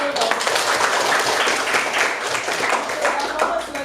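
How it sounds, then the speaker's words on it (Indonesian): Group hand clapping in a classroom coaching session, dense, rapid and fairly loud, continuing for several seconds with a few voices mixed in. "Oke, gue tepuk tangan dulu."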